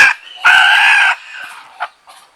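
A large bantam rooster crows loudly and close by, one long strained call followed by a few shorter, fainter clucking notes.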